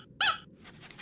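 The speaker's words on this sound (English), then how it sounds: "Now my elbow is squeaking every time I bend it." Cartoon squeaking elbow joint, a single short, high, creaky squeak, clear and fairly close, followed by faint quieter rustling.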